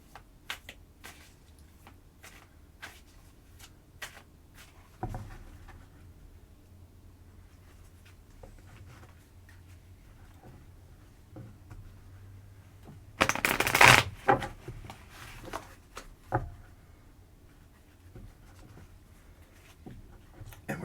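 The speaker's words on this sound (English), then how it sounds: "And we're drawing three cards." Night Sun Tarot cards being shuffled by hand, with scattered soft flicks and taps building to a loud riffling burst midway, then a few more card snaps, close and without talk.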